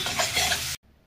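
Papad frying in hot oil, a dense bright sizzle lasting under a second before cutting off abruptly to near silence.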